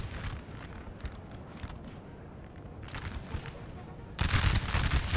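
Artillery and musket fire in Napoleonic Total War 3, a 4v4 battle: a dense, rumbling spread of distant shots rolling through the clip, swelling into a louder, heavier barrage near the end.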